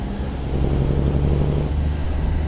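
Truck engine and exhaust in American Truck Simulator, a steady low rumbling drone that swells slightly and holds, loud and continuous with no speech.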